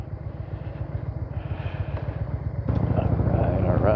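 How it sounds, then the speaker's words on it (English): A motorcycle engine idles and rumbles with a steady pulsing beat while being ridden slowly through a narrow passage near the Lion Monument in Lucerne, Switzerland, then grows louder and rougher as the rider opens the throttle. "Pretty sure I'm not supposed to go through here with a motorcycle"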